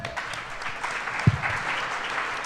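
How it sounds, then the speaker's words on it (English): A crowd at a Packers clubhouse live event applauds steadily throughout, a dense wash of clapping at moderate distance with one louder thump partway through. "How about a big round of applause for K9?"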